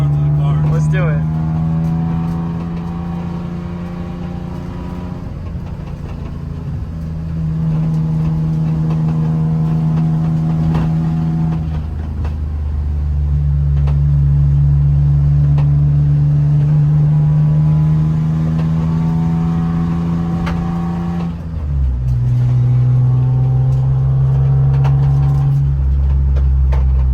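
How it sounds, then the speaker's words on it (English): A BMW E46 M3 with an Active Autowerke supercharger revs repeatedly. Its engine note climbs, holds and drops over several long pulls, with a steady harmonic drone and an upper supercharger whine, close and loud, and a brief dip before the last rev. "Let's just listen to the sounds of the car."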